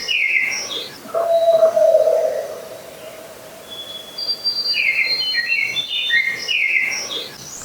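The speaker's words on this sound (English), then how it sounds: "And suddenly the ravens get all riled up." Ravens call at dawn from a recording being played back: harsh, repeated croaks and squawks come in scattered bursts, moderately near, with no one talking.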